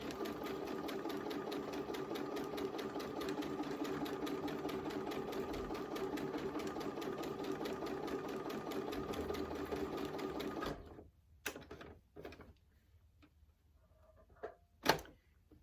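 A sewing machine stitches a square-in-a-square quilt block in one long, steady, rapidly ticking run of about ten seconds, then stops, leaving faint handling clicks and a knock near the end.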